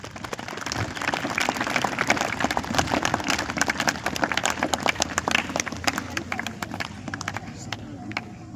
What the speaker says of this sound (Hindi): उन सब के लिए भी आप जोरदार तालियां बजाएं।